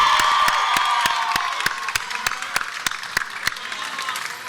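A commencement crowd applauds and cheers outdoors, dense clapping with shouts and a whoop at first, thinning into scattered sharp individual claps over a few seconds, heard fairly close and loud.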